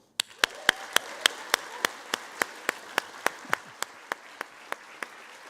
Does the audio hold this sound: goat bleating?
no